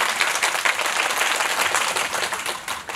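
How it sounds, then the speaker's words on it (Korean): Steady, dense applause from a cinema audience at a special screening event in Seoul, continuous and loud throughout with no break. "네, 박수 한번 다시 부탁드릴게요."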